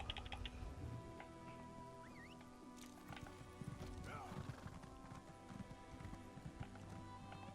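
Horse mount hooves clip-clopping in Elder Scrolls Online, a steady run of hoofbeats with a whinny mixed among game sounds, music and background noise.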